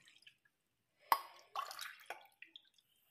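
Water is poured from a glass into a pot to cook ragi mudde, coming as a few short, close splashy bursts with quiet gaps between them and no talk.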